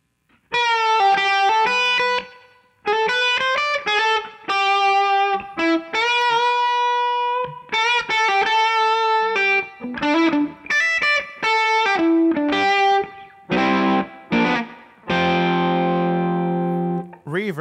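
Distorted electric guitar plays phrases of sustained, ringing notes and chords, with a spacious reverb tail lingering between them.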